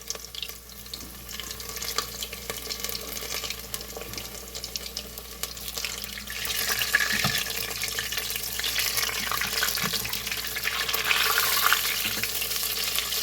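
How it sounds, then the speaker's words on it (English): Mini pizza puffs go into hot grease for deep-frying, producing a rushing, bubbling hiss that starts moderate and grows louder and busier as the frying takes hold. "So, I got my grease nice and hot. I'm gonna put them all in."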